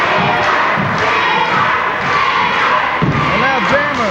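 A wrestling crowd at an indoor AIWF show roars in support of Jumpin' Jimmy Jammer, steady loud cheering and yelling punctuated by thuds from the ring, with whistles and excited shouts rising near the end.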